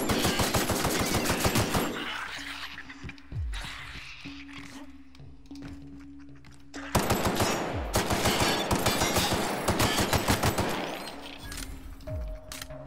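Rapid shotgun fire in the video game The Outer Worlds comes as dense, loud bursts of blasts. A quieter stretch with scattered clinks and game sounds breaks them up before another volley.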